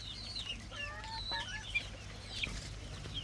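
Broiler chicks peck at a cut banana plant on a poultry farm, giving soft clucks and rising peeps. The calls come close and intermittent over a low, steady background hum.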